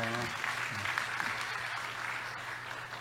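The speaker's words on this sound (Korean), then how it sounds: "박수로 축복하겠습니다." Church congregation applauding to bless a high school student receiving a faith scholarship certificate, steady dense clapping from a large room that holds level throughout.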